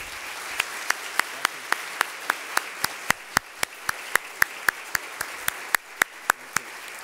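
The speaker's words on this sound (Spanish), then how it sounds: "Quisiera que le demos un caluroso aplauso." Audience applause after a request to welcome a guest, heard as a steady run of about twenty-five sharp, evenly spaced claps, moderately loud and clear with no talking over them.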